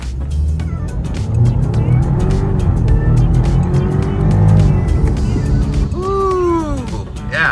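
An all-wheel-drive BMW in sport mode accelerates hard, its engine roaring loud and rising over the full stretch, with a short tire-squeal-like whine near the end.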